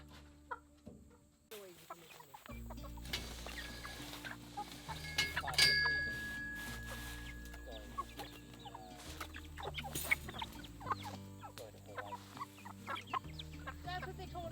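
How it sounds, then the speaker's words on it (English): A backyard homestead flock of chickens clucks and squawks intermittently at close range, with a sharp louder call near the middle, over a low steady background. "These chickens are still a little chickened out over the disaster that happened a few days back."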